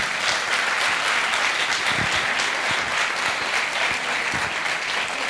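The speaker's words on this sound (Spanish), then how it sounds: "para el que pido un fuerte aplauso" Conference audience applauding a speaker, a dense and steady clapping from a crowd sustained for several seconds, fairly loud with no talking over it.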